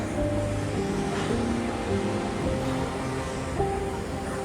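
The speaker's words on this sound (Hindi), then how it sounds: "हर तरफ झरने, हर तरफ से पानी आ रहा है" Broad, steady rush of flowing water from waterfalls and mountain streams along the Hampta Pass trek, a constant dense roar without pause or speech.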